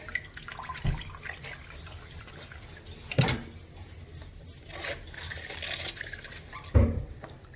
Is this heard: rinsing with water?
yes